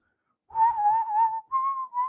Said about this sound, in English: That whistle was probably super loud.